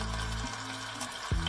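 Shrimp sizzle on a hibachi grill on a boat, a steady close frying hiss over a low engine-like hum, with a brief clunk near the end.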